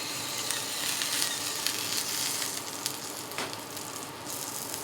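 Porterhouse and ribeye steaks, seasoned with salt, pepper and garlic, sizzle steadily on a hot griddle top after being flipped, a dense continuous crackle and hiss with small pops, close and fairly loud, no voices.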